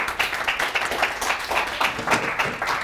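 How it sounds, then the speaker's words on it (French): A conference audience applauding steadily, many hands clapping in an even patter that continues without pause. "on peut l'applaudir."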